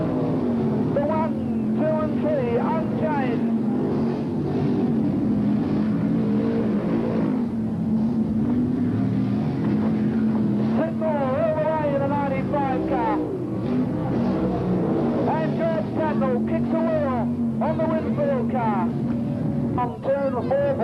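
Roaring sprint car engines racing around a 1980s speedway track, a continuous loud drone rising and falling as cars pass, with a race commentator talking over it throughout.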